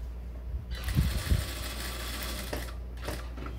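A sewing machine topstitching a jungle hat runs in a fast, steady mechanical whir for most of the stretch, with a couple of louder thumps near the start and a short pause before it resumes.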